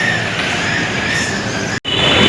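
A metro train at a station rolls by with a loud, steady rumble and a faint wheel squeal, broken by a momentary cut near the end before the noise resumes.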